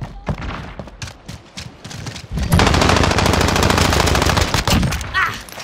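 Rapid automatic gunfire in Call of Duty Modern Warfare, scattered shots at first and then a loud, continuous burst of machine-gun fire that fills the second half with heavy booming.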